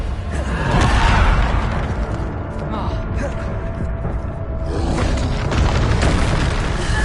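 Bombarda spell blasts in Hogwarts Legacy, a run of loud booming explosions with crackling bursts, sustained and dense over busy game sound with voices underneath.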